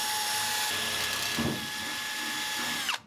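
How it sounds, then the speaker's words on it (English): Power drill boring a center point hole through a campervan wall for a window install, a steady loud whine lasting nearly three seconds that shifts pitch midway as the bit bites, then abruptly stops. "then drill our center point to transfer to the outside."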